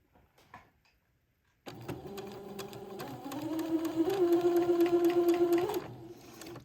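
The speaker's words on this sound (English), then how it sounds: "sew this lace band to the bottom of the hem of the garment" After a quiet start with brief handling sounds, a sewing machine whirs into a steady, close, rising hum as it stitches a lace band onto the hem of a batiste frock, then stops abruptly.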